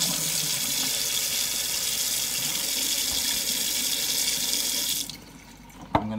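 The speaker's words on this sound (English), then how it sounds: "I'm going to let the hot water run through." Hot water runs from a tap into the clean water tank of a Vax Dual V Advance carpet shampooer, a steady close rushing stream that cuts off near the end, followed by a sharp knock.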